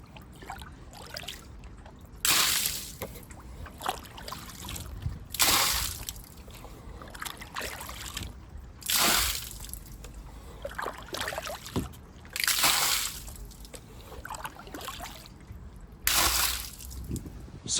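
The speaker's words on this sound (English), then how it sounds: "So I'm just going to have to get a baler out and bail the water from the cover" Water bailed by hand with a baler from a boat cover, repeated scooping splashes and sloshes coming every few seconds at close range, with trickling water in between.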